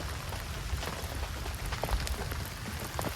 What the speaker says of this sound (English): it's raining outside, so I had to bring the show inside